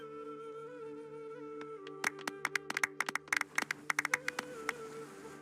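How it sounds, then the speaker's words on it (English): Scattered clapping from a small crowd at an award ceremony in the Genshin Impact video game, a burst of sharp irregular claps over sustained musical tones, fairly close and moderately loud. "Let's give our champion Kaveh one last big round of applause."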